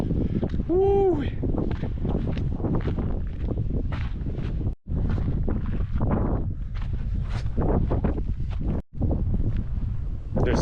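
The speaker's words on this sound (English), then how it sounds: "It's so windy here." Strong wind buffets the microphone on the Petroglyphs Kilauea Trail in Volcano National Park, a steady loud roar and rumble throughout with brief drops, while people talk and one whoops over it.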